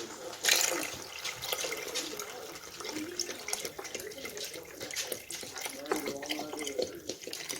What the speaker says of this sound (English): I'm going to add 4 cups of beef broth. I'm using the low sodium beef broth.